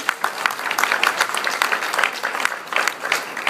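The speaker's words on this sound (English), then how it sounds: "So I think we should clap for Diego and the work he's done." Dense, continuous applause from a crowd at an election event, steady clapping filling the room throughout with no pauses.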